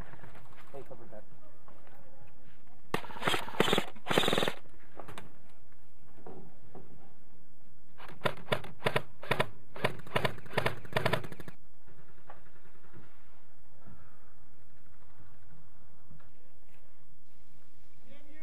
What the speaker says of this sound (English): The reason this hit sounds so loud is it's actually me getting shot in the face right next to the microphone